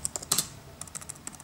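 Keys clatter on a late-2010 13-inch MacBook Pro keyboard, a quick uneven run of light clicks in two short bursts separated by a brief pause, close and fairly quiet.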